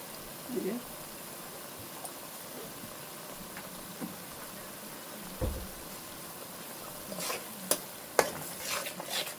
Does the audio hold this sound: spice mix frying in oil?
yes